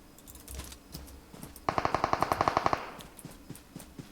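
Automatic gunfire in PUBG Mobile comes as a rapid even burst of about a dozen shots in the middle, preceded and followed by scattered fainter shots.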